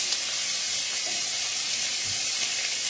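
Onions, zucchini and summer squash sizzle in a pan as they are stirred, a close, even hiss that holds steady with little variation.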